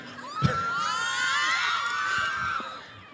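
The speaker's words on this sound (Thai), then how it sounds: "ขอเสียงปรบมือดัง ๆ" A university audience cheers and shouts loudly, high excited voices swelling together for a few seconds before tapering off.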